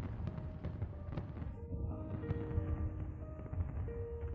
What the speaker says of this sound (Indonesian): Siapa yang menyalakan kembang api?